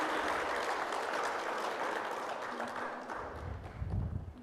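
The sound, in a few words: audience applause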